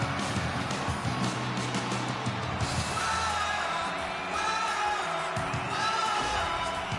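Hockey arena crowd in the NHL 26 video game, Anaheim Ducks home fans roaring after an early first-period goal in a playoff game: a dense, steady wash of cheering and yelling that holds for several seconds without letting up.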